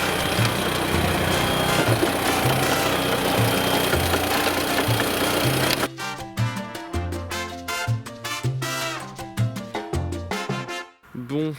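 A small petrol engine runs steadily with a throbbing low idle, then changes character partway through into choppier, uneven pulses after the choke is pushed in, heard close with no talking.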